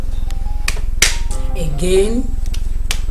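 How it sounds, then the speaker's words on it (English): A man claps for himself in a scene from a Nigerian movie: a handful of sharp, irregularly spaced claps ring out close by, interleaved with people talking. "I said clap for yourself."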